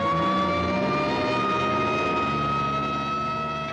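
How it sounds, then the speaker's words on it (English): An ambulance siren wails loud and steady as the vehicle drives past nearby, its sustained tones holding throughout over a low engine rumble and traffic noise. "here comes an ambulance out."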